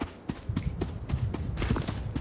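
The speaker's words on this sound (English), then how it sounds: "The horse was dodging us." Horse hooves clip-clop in the Rust video game, a quick run of about eight sharp, close hoofbeats in an uneven galloping rhythm.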